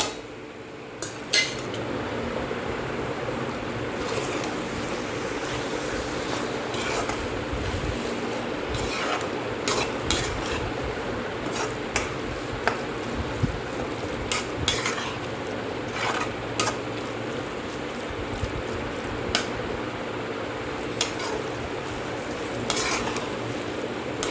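Paneer masala is stirred and sautéed in a pan with coriander powder and salt, with a steady low sizzle and irregular scraping clinks from a spoon against the vessel.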